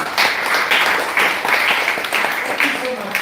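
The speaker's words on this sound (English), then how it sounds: "Let's give them a huge round of applause." Applause from the audience at an agroforestry event. Uneven rounds of clapping swell and dip over a few seconds, moderately loud, with some voices mixed in.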